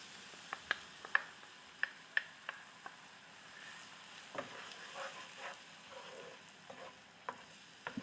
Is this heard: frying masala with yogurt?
yes